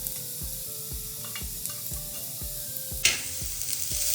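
Chopped mushrooms, coconut and green capsicum sauté in a pan, with a soft sizzle under regular scraping stirring strokes about twice a second, fairly quiet and close, and a sharper hiss rising near the end.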